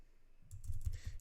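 Someone types on a computer keyboard in a quick run of close, soft key clicks that starts after a brief quiet moment.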